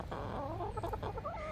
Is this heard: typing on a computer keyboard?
no